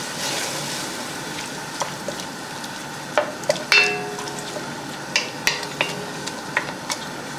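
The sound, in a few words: stirring lechon paksiw with Mang Tomas sauce in pan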